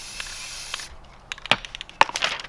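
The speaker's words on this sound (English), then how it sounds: "Grab the spray paint." Spray paint hissing from an aerosol can onto a 5-gallon bucket being made into an archery target, a steady broadband hiss for the first second, then short bursts and clicks close up.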